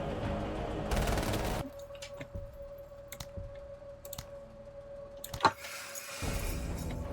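Scattered rifle shots in a video game, sharp single cracks at irregular intervals with one louder shot near the end, between bursts of background game noise and a steady tone.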